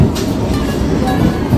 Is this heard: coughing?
no